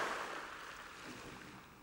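Big ocean waves break and surge at a river mouth in a soft, continuous roar of surf, fairly faint and distant, with no speech.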